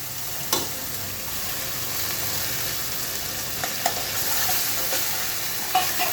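Shrimp frying in a pan with onion and garlic paste for a pumpkin curry: a steady, close, loud sizzle hiss with a few sharp scrapes of a stirring utensil, no voices.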